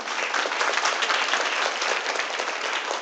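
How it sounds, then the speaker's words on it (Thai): Audience applause at a teacher-training student gathering fills the whole stretch as a steady, dense wash of many hands clapping at once, loud and continuous with no voices standing out. "ทุกคนช่วยปรบมือให้พี่นาด้วยค่ะ"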